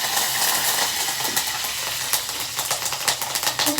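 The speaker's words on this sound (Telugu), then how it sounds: "కరివేపాకు కూడా వేసేస్తున్నాను." Curry leaves crackle and sizzle in hot oil for a tempering, a loud close spitting hiss with sharp pops growing toward the end.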